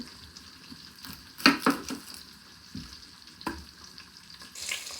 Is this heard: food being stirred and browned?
yes